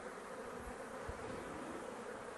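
Honeybees in a hive kept for beekeeping drone in a steady, dense buzz, close and continuous throughout with no talking.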